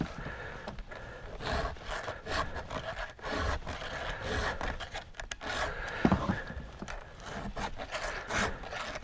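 A chainsaw chain is filed with a Husqvarna chainsaw file, repeated rasping strokes in a steady back-and-forth scraping rhythm, close up and fairly quiet.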